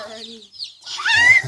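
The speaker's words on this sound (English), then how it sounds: "Look at all those baby chickens." Baby chickens peep and cluck close by in short bursts, a few high chirps rising toward the end.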